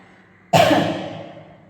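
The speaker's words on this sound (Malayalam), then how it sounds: "ചുമ വരുന്നു സംസാരിക്കുമ്പോൾ" After a moment of near silence, a single sharp cough bursts out close by, then fades away.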